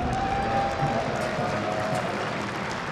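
A large crowd applauds and cheers steadily throughout at the IEM Katowice StarCraft 2 esports event, a dense, continuous wash of clapping filling the hall, with a faint steady tone running beneath.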